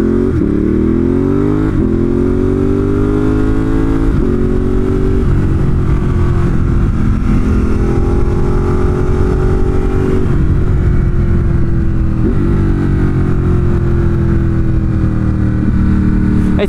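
A 2018 Ducati Monster 1200 S engine being ridden, loud and close, its throaty growl climbing in pitch through repeated gear shifts, each rise dropping back briefly before pulling again.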